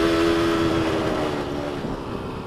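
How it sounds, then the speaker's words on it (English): Vintage motorcycle engine droning steadily while riding along a road, heard up close with a sustained hum and wind rush that slowly fades slightly. "Figured I'd take the vintage bike out, clear the jets out."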